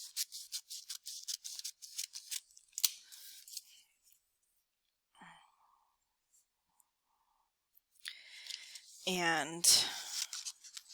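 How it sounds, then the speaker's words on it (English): Rapid scissor snips crunch through paper up close, followed by a quiet pause and then a person speaking. "I'm just going to take scissors"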